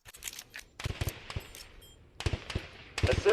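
Rapid bursts of rifle and pistol gunfire at a shooting championship, sharp cracks in quick clusters with short pauses, some shots close and loud, building to a dense volley at the end.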